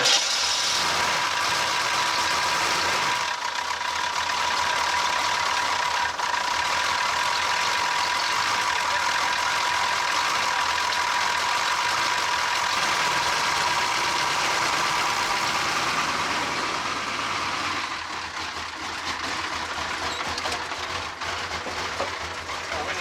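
A 1985 Chevrolet Suburban's 6.2-liter diesel idles steadily up close, a loud continuous clattering drone with the engine shaking loose on its mounts, steady throughout with a slight dip near the end.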